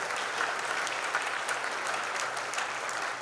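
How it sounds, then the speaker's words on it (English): An audience claps throughout at a Hall of Fame ceremony, a dense, even round of applause filling the hall for a few seconds. "So thank you for giving them a round of applause."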